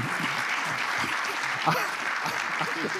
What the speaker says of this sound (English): I want to, uh, you all to give our panel another round of applause.